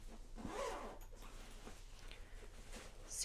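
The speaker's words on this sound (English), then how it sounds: "The other side does have a practical regular zipper." A regular zipper on a travel skincare bag is pulled open in a quick, faint rasping stroke, quiet and close, set against a soft room background.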